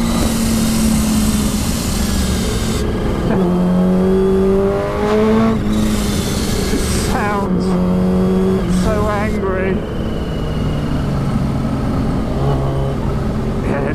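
A 2021 Suzuki Hayabusa motorcycle engine revs hard on the road, rising and falling through several sharp throttle bursts with wind rush throughout, loud and close, while a rider talks over it.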